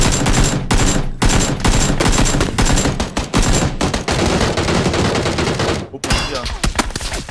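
Rapid bursts of AUG rifle fire in the PUBG battle royale shooter, loud, continuous automatic volleys with short pauses between strings of shots, dominating the mix with faint speech underneath.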